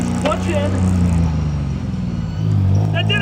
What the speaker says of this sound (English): Okay, I'm gonna attempt a gear change. Clutch in.